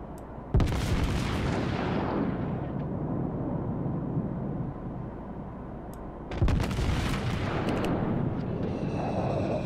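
Battleship main guns of a Tier 6 American New Mexico firing salvos in World of Warships, two heavy booming blasts several seconds apart, each with a long rumbling tail.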